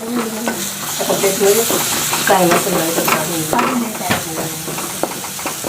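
Vegetables frying with red chilli, ginger-garlic paste and salt being stirred together in a pan, giving a loud continuous sizzle with busy scraping and clinking of a spoon, close by, and a voice talking faintly in the background.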